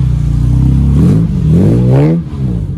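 A 1953 Aston Martin DB2/4 engine revs loudly and close by in an outdoor city square, rising and falling in two strong throttle sweeps with a deep, rumbling exhaust note.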